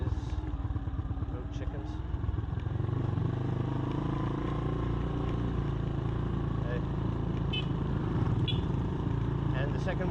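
Motorcycle engine and exhaust rumble loudly and steadily while riding on a rainy day, a low droning roar that builds after a couple of seconds, with a rider briefly speaking over it.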